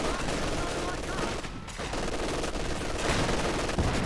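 Company of Heroes 2 LMG Grenadiers rattle off sustained light machine gun fire, a dense, continuous stream of shots with brief dips, mixed with other battlefield gunfire throughout.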